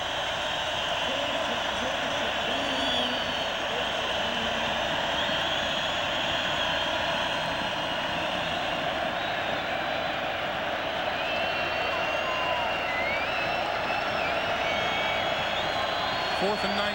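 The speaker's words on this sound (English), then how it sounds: "Listen to the crowd." A stadium crowd at the 2001 NFL divisional playoff between the Raiders and Dolphins sends up a loud, continuous roar, a dense wash of cheering that holds steady throughout.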